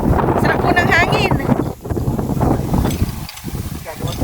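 Wind rushes over the microphone on a boat at sunset in a loud, steady roar, with the boat engine or water churning underneath and faint voices mixed in.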